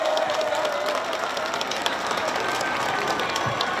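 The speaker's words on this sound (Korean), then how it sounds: "박수 한 번만 부탁드려요." Audience applause at the Gimhae Hanwoo (Korean beef) festival, a crowd clapping steadily and densely for several seconds with scattered cheers, fairly distant and even in level, with no talking over it.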